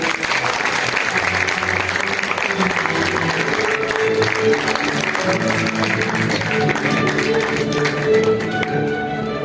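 A theatre audience gives a sustained round of applause for the cast of a student stage production of The Merchant of Venice, loud continuous clapping over tonal music.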